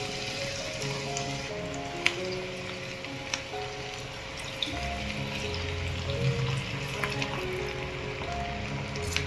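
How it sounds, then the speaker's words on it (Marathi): Sweetcorn fritters (bhaji) fry in hot oil over medium heat, giving a steady, close bubbling sizzle with scattered crackles and pops throughout. "आपण आता हे स्वीटकॉर्नचे भजी सोडून घेऊया."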